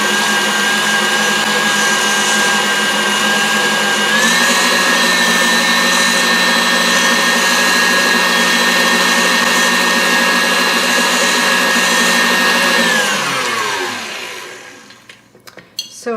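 An electric hand mixer whirs loudly and steadily through cheesecake batter, its motor pitch stepping up briefly partway through, then spinning down to silence near the end with a few clunks.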